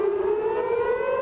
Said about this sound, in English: air raid sirens sounded across the center of the country on Saturday, including Tel Aviv